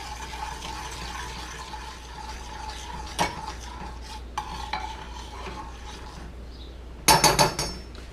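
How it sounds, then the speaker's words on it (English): Sugar stirred into simmering jam in a pot with a spoon, heard as a soft continuous scraping and bubbling with a few sharp clinks against the pot and a louder clatter near the end, close by, no talking. "I'm just going to stir the sugar in"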